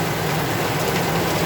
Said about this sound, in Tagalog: Wow, lakas ng ulan.